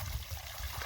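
Water poured continuously for washing hair at a rural village, a steady close trickling and splashing with a low rumble, brief and unbroken.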